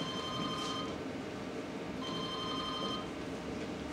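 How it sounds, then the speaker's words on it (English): A telephone rings indoors in a steady, repeating pattern, with two clear bursts of ringing separated by a pause over a constant background hum, and no voices. "but she got another phone call"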